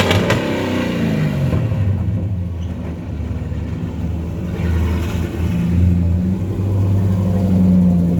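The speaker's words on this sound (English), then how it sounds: "Jared's taking it out for a little test drive." A rebuilt Chevy Camaro Z28 1LE race car, once abandoned, runs on a test drive, its V8 engine rumbling and revving up and down steadily, close and loud, with no talking.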